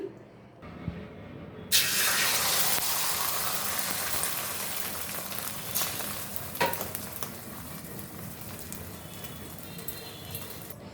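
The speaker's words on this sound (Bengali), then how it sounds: "বন্ধুরা আলুগুলো ধুয়ে নিব" Water runs steadily over freshly cut potatoes being washed for an egg dish in a home kitchen, a broad continuous rush that starts abruptly after a quiet opening and carries on with small clinks, under occasional talk.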